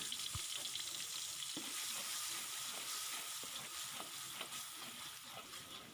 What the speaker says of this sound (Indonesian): Kemudian bumbu basah kita tumis sampai airnya sat dan harum.